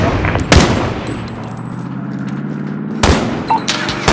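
Gunfire in Call of Duty: Modern Warfare (2019), sharp loud shots at the start and again near the end, separated by a droning mechanical rumble underneath.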